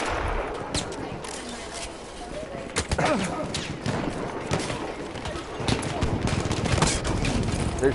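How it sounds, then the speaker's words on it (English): Rapid gunfire in a Battlefield 1 match, a dense spread of shots and bursts layered with battle noise, continuous and moderately loud throughout, with some talking mixed in. "They're shooting from everywhere."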